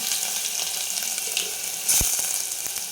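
Mustard seeds, cumin and four or five crushed garlic cloves sizzle in hot oil, a close, steady hiss with a sharper splash and crackle partway through.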